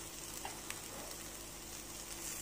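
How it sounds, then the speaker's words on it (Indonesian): Tofu and tempeh sizzle quietly in a hot pan over medium heat with a steady frying crackle and a few faint clicks and stirs. "Kita balik agar semua sisi tempe maupun tahu terkena wajan yang panas"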